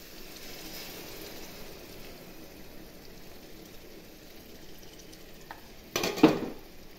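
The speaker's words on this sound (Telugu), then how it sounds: "పోసాక ఎమ్మటే కలపొద్దండి, ఫ్రై అవ్వాలి." Milk poured into a pan of tomato curry sizzles and fries with a steady, soft crackling hiss, close by. Near the end comes a louder scrape and clatter of a utensil against the pan.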